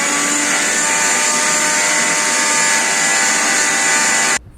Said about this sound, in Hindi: अब इसमें थोड़ा सा पानी डाला और फिर इसे ग्राइंड कर दूंगी और मेरी मस्त सी आंवला चटनी रेडी हो जाएगी